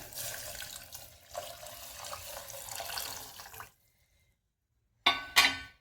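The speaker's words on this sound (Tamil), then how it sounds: "தண்ணி ஊற்றிடலாங்க." Water pours steadily into a cooking pot for dal rice for a few seconds, stops, then splashes twice more in short bursts, close and fairly soft.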